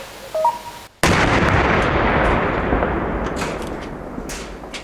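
Controlled on-site detonation of unexploded ordnance by deminers in Donetsk region, a single sudden loud blast after a brief quiet moment, followed by a long rumbling decay with faint crackles.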